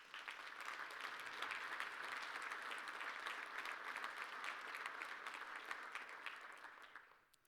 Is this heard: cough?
no